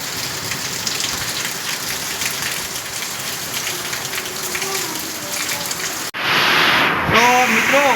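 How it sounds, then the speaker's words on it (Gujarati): Heavy rain pounds steadily on a rooftop with metal sheeting during a monsoon downpour with lightning, a dense loud hiss that swells sharply louder near the end as the view shifts. "પણ હવે થોડી સ્પીડ વરસાદની વધી ગઈ છે"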